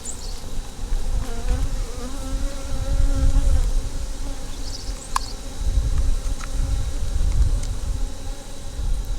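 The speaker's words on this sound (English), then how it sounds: "All the bees are starting to fan their pheromone to say, hey, the queen's in this box, come over here." A honey bee swarm gathered at a hive box in June gives a dense, continuous buzzing hum at close range, steady throughout and slightly swelling, with no speech.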